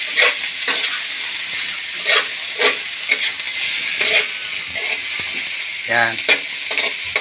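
Adobo chicken liver and gizzard fry and sizzle in a pan with a continuous close hiss, broken by repeated scraping stirs from a spoon or spatula, and someone briefly speaks.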